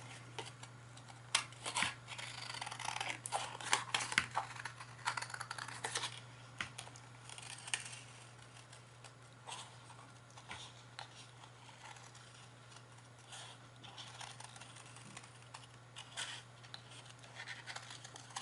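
Scissors snip through paper while a rustic country Santa Christmas tag is cut out, a quiet, irregular run of small clicks and scratchy cuts over a steady low hum, with no talking.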